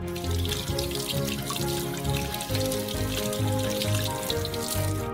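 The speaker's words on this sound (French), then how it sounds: "On les rince bien." Perch, freshly gutted with gills removed, rinsed under a running kitchen tap: a steady, continuous splash and gurgle of water into a sink, close and fairly loud, lasting throughout with no talking.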